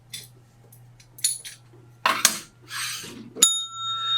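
A bell is struck once near the end of a talk show segment, giving a bright, sustained ring that follows a few softer clinks and rustles in a quiet room.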